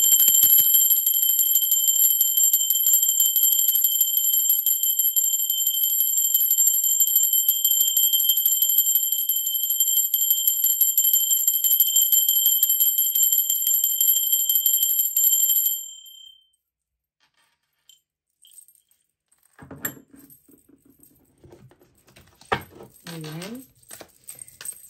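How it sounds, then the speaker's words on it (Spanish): A bell rung during a spiritual reading gives a bright, steady ringing tone that lasts about sixteen seconds before cutting off, followed by near silence with a few faint noises. "ahora sí, va campana"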